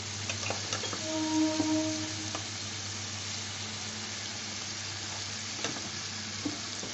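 Ground onion, ginger and garlic paste frying in a pan for mutton keema, a continuous sizzle with a few stirring scrapes and a faint tonal hum underneath, no speech.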